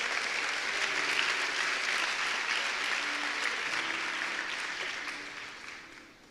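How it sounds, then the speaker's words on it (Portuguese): Church congregation at a Lagoinha Niterói service applauding, a steady roar of many hands clapping throughout the room that slowly fades out near the end. "você pode aplaudir."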